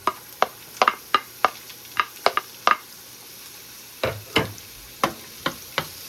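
Onions dropped into a hot pan for pancit bihon sizzle and get stirred, with a series of sharp, close clicks and scrapes over a steady low frying hiss, no voices.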